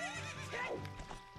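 A horse neighs loudly in The Legend of Zelda: Ocarina of Time, a single whinny with a falling pitch, near and clear over in-game background sounds.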